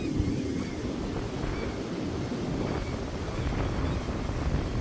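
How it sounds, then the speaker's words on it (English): Wind blowing across the open deck of the Island Princess cruise ship at night, a steady, loud rumbling buffet on the microphone with no clear break. "it's a bit windy"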